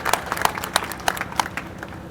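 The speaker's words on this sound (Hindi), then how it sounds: "ऐसे हमारे नरेंद्र शर्मा जी, इनका जोरदार तालियों से स्वागत कीजिए।" Applause greeting Narendra Sharma at a Congress party political rally in Kurukshetra, Haryana: steady crowd clapping with sharper individual claps standing out, moderately loud, no talking over it.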